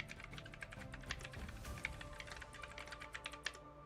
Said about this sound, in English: Who's typing? Who's on a typewriter?